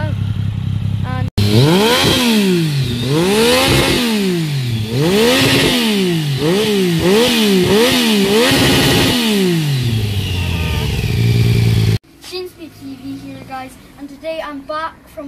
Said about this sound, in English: I guess there's a motorbike there.